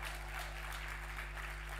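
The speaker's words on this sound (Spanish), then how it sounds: "muy bien, un aplauso." Brief applause from a live audience at a talk, dense and steady throughout, with a constant low hum running underneath.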